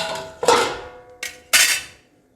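A metal lid lifts off a pot of cooking chicken with a sharp clatter, then a spoon scrapes and knocks against the pot in two loud, close bursts before quieting.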